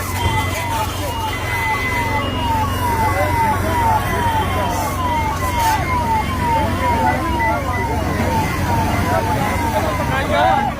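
A fire engine siren wails in a rapid, repeating rise and fall, loud and close, over traffic rumble and faint voices at a car fire in a parking lot in Kotkapura.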